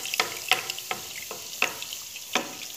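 Beignets frying in hot oil over moderate heat, giving a steady soft sizzle broken by several sharp crackling pops spaced irregularly, close by and fairly quiet, with no voices.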